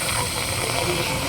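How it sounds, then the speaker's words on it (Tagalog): Refrigerant hissing out of a leaking AC pressure switch on a Mitsubishi L300 Euro4, a strong continuous close-up hiss with a faint voice underneath. "Ayan, sumisingaw sa pressure switch."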